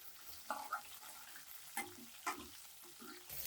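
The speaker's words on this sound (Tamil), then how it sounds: "வெங்காயம் நல்லா வந்து வதங்கணுங்க" Onions sizzle and sauté in a pan, with a spoon stirring and scraping a few times; quiet and close, no voices.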